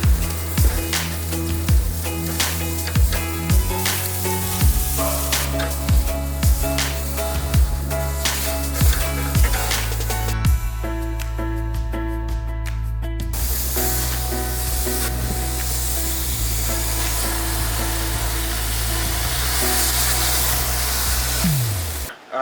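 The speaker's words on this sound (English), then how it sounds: "we got the steak on the grill" Steak sizzles on a grill outdoors, a loud, steady hiss and crackle that continues unbroken, with occasional clicks and scrapes over it.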